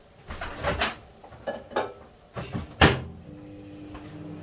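A microwave oven door thuds shut nearby amid a few clattering kitchen knocks and bumps, followed by a faint low hum.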